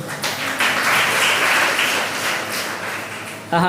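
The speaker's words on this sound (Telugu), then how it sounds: "ఒకసారి చప్పట్లు కొట్టండి అందరు" A congregation at Sunday Holy Mass claps together in a church, a loud, sustained burst of many hands that swells and then eases off near the end.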